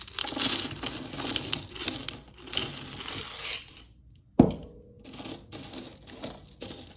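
Coins dropped and counted by hand in an ASMR coin-counting session, a dense run of close, bright metallic clinks and jingles with a brief pause before a sharp clatter resumes.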